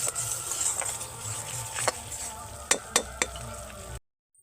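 Spice masala frying in oil for a soybean muithya dish, a soft steady sizzle with scraping stirs and several sharp clicks of a spoon against the pan, then a sudden cut to silence.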